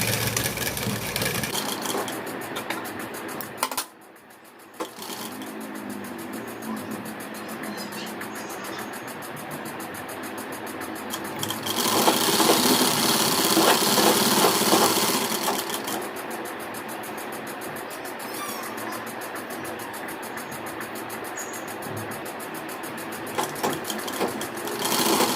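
Sewing machine stitching steadily around the folded edge of a salwar pant, a continuous close mechanical whir that briefly pauses, then runs on with one louder, faster stretch midway.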